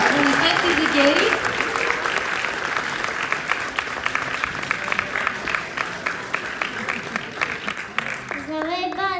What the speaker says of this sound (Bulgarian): Аплодисменти за Гери.